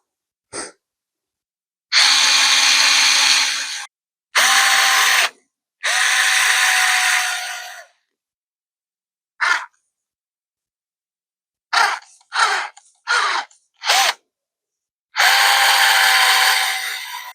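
A small handheld drill, apparently weak or low on battery, bores a hole in a seashell in short bursts of a few seconds each. Its harsh, whirring grind is separated by silent gaps and several brief stuttering pulses.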